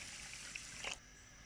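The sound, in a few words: water poured into sugar for carrot murabba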